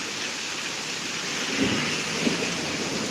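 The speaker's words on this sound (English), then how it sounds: "I guess the best part of the storm is getting ready to hit" Thunderstorm in Pittsburg, Kansas, with steady heavy rain hissing throughout and low rumbles of thunder rolling in near the middle, a couple of muffled thumps standing out, no talking.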